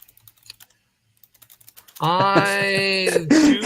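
Someone types on a computer keyboard with sparse, light key clicks spread over about two seconds. A loud, sustained tonal voice then takes over.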